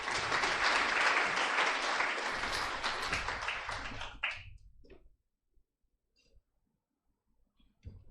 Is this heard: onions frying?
no